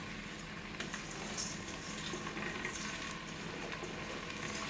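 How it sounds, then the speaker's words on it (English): Soaked rice added to a pot with melted fat for vegetable pulao gives a steady, close, hissing sizzle with light bubbling and no talk. "now we're going to add the rice"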